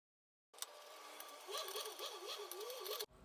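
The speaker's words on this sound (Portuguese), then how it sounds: "Agora eu vou aqui na máquina e passar uma costura de segurança para prender toda a minha tela." A sewing machine runs a securing seam to hold canvas in place on fabric for a folder organizer, a steady, faint mechanical whir lasting about two and a half seconds before it stops abruptly.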